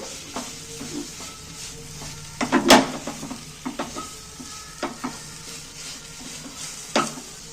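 Carrot mixture with chopped raisins being stirred and mashed in a frying pan: a soft, continuous sizzle broken by scattered scraping strokes and one sharp, loud scrape near the middle, with no talking.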